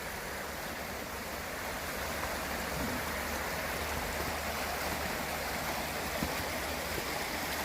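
North Kill Creek runs steadily along a woodland trail in State Game Land 110, a continuous broad rushing of flowing water heard close by with no voices.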